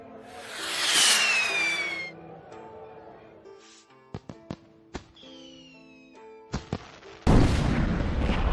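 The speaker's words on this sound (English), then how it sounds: "The force of the explosion sent Mushu and Cricky flying through the air." An animated battle scene from Disney's Mulan, where a rocket explodes and fireworks go off on a palace roof. Whistling rocket whooshes and scattered sharp bangs lead into a loud, dense crackling burst at the end, with no talking.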